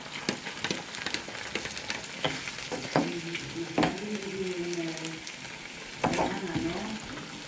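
Chicken hearts with onion and garlic fry in a pan, a close crackling sizzle broken by sharp utensil clacks and stirring. Brief household voices sound in the background.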